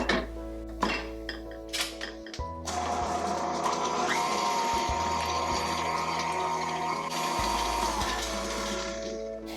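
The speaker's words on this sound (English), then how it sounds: "Then mix them together well." After a few clinks of a bowl and utensils, an electric mixer starts and runs at a steady whirr, blending an egg and vanilla into peanut butter cookie batter.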